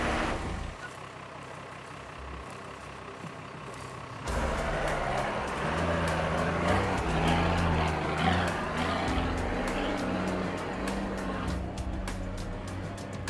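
A big 4WD truck rolls toward a muddy bog hole in an off-road winching session, its engine rumbling steadily and growing louder partway through, with revving and mechanical clanks over an outdoor background.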